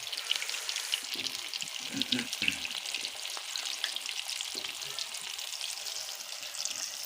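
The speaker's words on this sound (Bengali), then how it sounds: "দেখুন সমস্ত ফুলকপিগুলোকে তেলে ছাড়া হলো।" Cauliflower pieces fry in hot oil for a niramish gobi masala, giving a steady, close, crackling sizzle with faint popping that holds level from start to finish.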